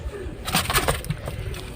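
Karna breed fancy pigeons, a breeding pair kept for sale, give soft, close-up cooing calls in short repeated bursts over a low background murmur.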